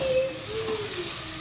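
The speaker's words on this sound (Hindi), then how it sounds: "ये नमक डाल दिया और अब इसको भूनेंगे अच्छी तरह।" Masala with salt frying in a pan gives a brief, close, steady sizzle and hiss, with no voices over it.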